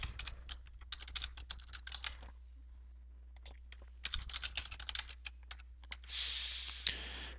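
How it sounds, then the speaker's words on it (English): Typing on a computer keyboard while entering a name into a contact database: bursts of rapid, close key clicks separated by a short pause, ending in a louder scraping rustle. "and then you'll start typing the name."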